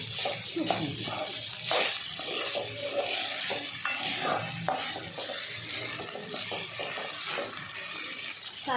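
Leftover rice stir-fried on high flame crackles and sizzles while a utensil repeatedly scrapes and tosses it in the pan, with a voice talking faintly underneath.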